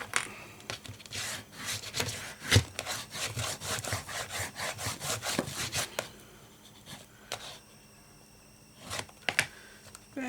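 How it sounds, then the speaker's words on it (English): Paper pages being burnished for bookbinding, a series of rhythmic rubbing strokes that run steadily for several seconds and then return in a few short bursts, quiet and close, with no talk. "Burnish that down."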